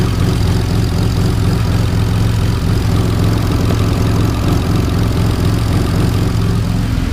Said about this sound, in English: this is a great opportunity to show you how loud the ID1000s are, how they click